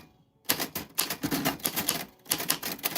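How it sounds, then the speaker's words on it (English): Rapid clacking keystrokes from a vintage typewriter come in quick bursts after a brief pause, a close, busy mechanical patter with uneven rhythm and no talking. "This is a vintage typewriter."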